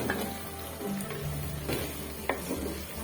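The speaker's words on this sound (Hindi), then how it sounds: "2 मिनट हो गए हुए हैं बड़ी इलायची और लौंग को फ्राई करते हुए।" Black cardamom pods and cloves fry in oil with a soft, steady sizzle and occasional stirring scrapes, quiet and close, no voices.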